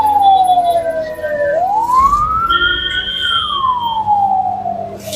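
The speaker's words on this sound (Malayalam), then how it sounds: "അപ്പോൾ ഒരു ആംബുലൻസ് വരുന്നുണ്ട്" A loud wailing ambulance siren sweeps slowly up and down in pitch, close by and steady, with traffic rumble underneath, on the NH66 highway in Kerala.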